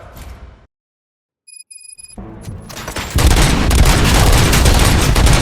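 Gunfire from the video game RoboCop: Rogue City: a few sharp shots, a brief silence, then scattered bursts build into a loud, continuous barrage of rapid fire that runs to the end.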